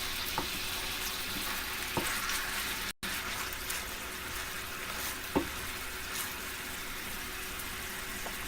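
Meat and vegetables stir-frying together in a hot pan for bulgogi tteokbokki, a continuous crackling sizzle broken by occasional utensil knocks and scrapes, with a brief dropout partway through.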